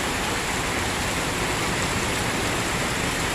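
Steady heavy rain pours down in Padang during a flood, a dense unbroken hiss of falling water that stays loud and even throughout with no voices.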